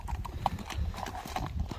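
Hooves of a bay horse clip-clop in a steady, close rhythm for a short stretch, with faint background voices underneath.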